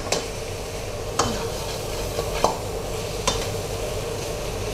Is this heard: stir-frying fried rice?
yes